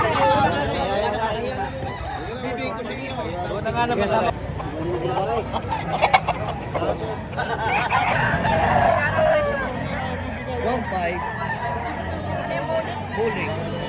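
Chickens cluck and a rooster crows nearby at a chicken market in Padre Garcia, Batangas, while people chatter in the background throughout.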